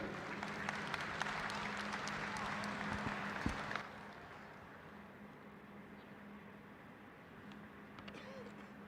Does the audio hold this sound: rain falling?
no